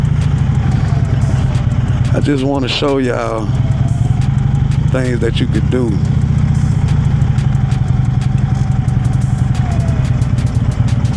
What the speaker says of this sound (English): because I'm riding my motorcycle